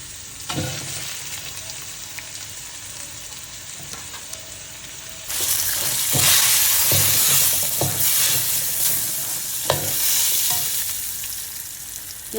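Potatoes hit hot oil in a pan with a sudden loud sizzle partway through, after quieter clinks, and then fry with a steady crackle while a utensil scrapes and knocks against the pan at irregular intervals.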